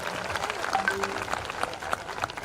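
A family audience at a school event claps for a guest, a brief, moderately loud patter of hands mixed with voices and background chatter.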